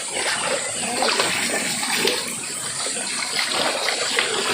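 Water flows and splashes steadily in a bathing and laundry spot, a continuous rushing gush that stays loud and even throughout with no voices.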